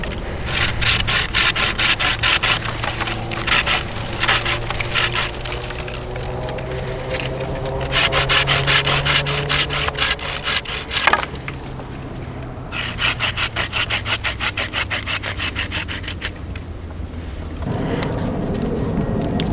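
A Bahco Laplander folding saw cuts through wood in rapid, rhythmic back-and-forth strokes, close and loud, pausing briefly between bursts of sawing.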